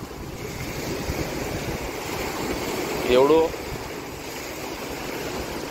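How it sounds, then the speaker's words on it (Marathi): Sea surf churning along a Goa private beach resort shore, a steady broad roar of waves and wind, with someone speaking briefly over it midway. "जो समुद्र अगदी खळखळत असा"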